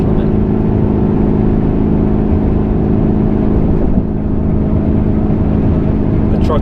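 A Ram 3500 pickup truck cruises at about 65 mph on the highway in wind, its engine and road noise forming a loud, steady drone from inside the cab.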